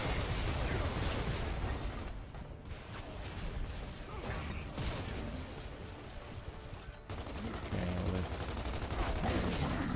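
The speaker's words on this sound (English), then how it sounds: "I'm being shot at." Sustained gunfire in Gears of War 2 on Xbox Series X, a dense, continuous rattle of shots and battle noise throughout, with a brief thinner stretch midway and a sharper burst near the end.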